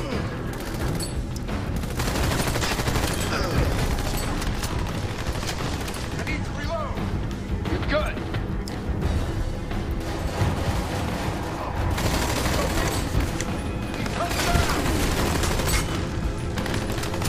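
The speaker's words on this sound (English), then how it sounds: "Where are you shooting me from?" Rapid gunfire bursts from the Army of Two: The Devil's Cartel video game, loud and nearly continuous, layered with game effects and music while someone talks over it.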